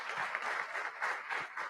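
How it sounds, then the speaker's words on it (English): Audience applause for institute affiliates at a child welfare symposium on racial equity: a steady wash of many hands clapping together, dense and continuous, with no voices above it. "Can you all just give them a round of applause?"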